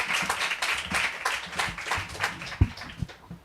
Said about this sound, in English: So, round of applause for Hoh Yin.